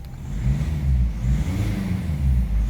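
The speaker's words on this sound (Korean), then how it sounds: "가속 페달 밟아볼게요" A car engine revs as the accelerator pedal is pressed while the vehicle stays put, a steady mid-pitched drone that swells in repeated surges, close and loud.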